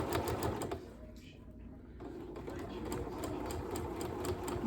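Sewing machine basting a collar piece onto the stand of a boys' shirt, a steady close mechanical whir running throughout with a brief drop in the middle before resuming, background talk faintly mixed in.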